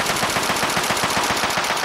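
Rapid automatic gunfire from combat against enemies in the video game Fallout 3, a fast, evenly spaced string of loud shots repeating without pause.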